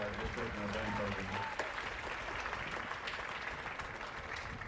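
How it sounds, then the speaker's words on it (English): An audience at a live band performance applauds, with dense clapping that is loud at first and then thins out slightly, while a voice over a sound system speaks during the opening seconds. "please give him a round of applause for his support for our district and our band program"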